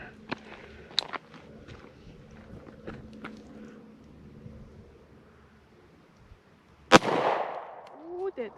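A single sharp, loud pistol shot from a compact six-shot Kimber at a shooting range, coming after a few quieter handling noises and footsteps, with a lingering ringing tail.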